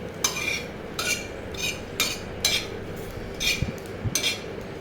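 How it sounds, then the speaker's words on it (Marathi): Dry coconut roasts on a hot griddle, stirred quickly with a utensil in a steady rhythm of about six brisk scraping strokes over a faint background hum. "तवा गरम आहे म्हणून आपल्याला लवकर असं खोबरं जात आहे तर पटापट हलवायचं आहे"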